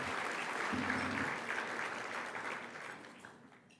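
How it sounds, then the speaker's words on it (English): Warm, sustained applause from the crowd at a volunteer awards luncheon, thick and steady, with a brief low murmur partway through, gradually dying away at the close. "please join me in another round of applause for Kelly"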